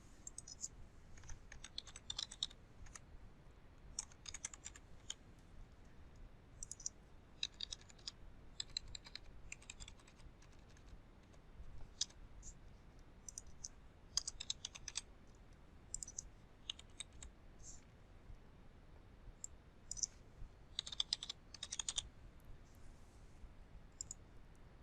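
A computer keyboard is typed on quietly in irregular bursts of soft, rapid key clicks with short pauses between, while payment details are entered.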